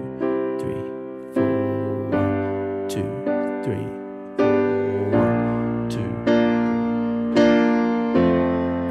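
Piano playing a slow ballad pattern with dotted rhythms, rich sustained chords struck one after another with a steady lilting pulse, played alone and close.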